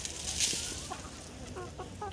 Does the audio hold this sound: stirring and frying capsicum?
no